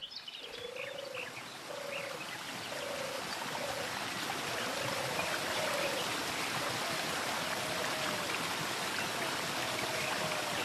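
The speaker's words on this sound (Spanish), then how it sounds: "Nos encontramos en la fuente del Euro. El agua se recogía aquí, en el manantial" Water flows steadily at a spring that fed a Roman aqueduct, a constant broad rushing wash heard close, with a repeated animal-like call cutting through faintly over it.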